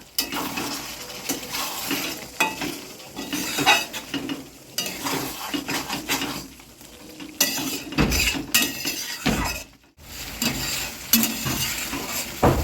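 Chilli fish sauce bubbling and sizzling in a pan, with occasional stirring scrapes and utensil clinks against the metal, steady and close throughout with no talking.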